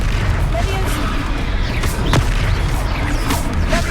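A Confringo fire-curse blast in a Hogwarts game battle against a troll, one sharp crack-boom near the middle over dense, continuous game noise and music with voices talking throughout.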